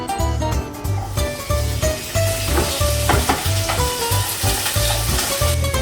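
Pancetta sizzles and fries in a pan with olive oil, a loud, continuous crackle with repeated stirring or scraping pulses throughout and no talking.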